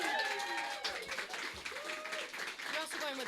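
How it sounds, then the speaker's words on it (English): An open mic audience at a garden venue claps and cheers for a first-time performer, steady applause filling the space with voices chattering over it. "Give him a round of applause."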